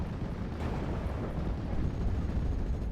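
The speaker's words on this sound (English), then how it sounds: "Ju-88 coming in for a heavy bombing run. Does a significant amount of damage to those airborne rifles." Ju-88 bombing run in a World War II strategy game, a dense rumbling roar of overlapping explosions that holds steady and swells slightly toward the end.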